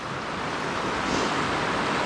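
Loud rushing water of a river where small pools form, a dense, constant roar that fills the whole stretch without pause and with no voices.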